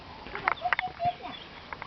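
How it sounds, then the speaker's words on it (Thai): Ducklings or chicks peep in a few short, high, scattered calls up close on a rural farm, mixed with clucking fowl and a voice talking lightly in the background. "เดี๋ยวเสียงลูกเป็ด"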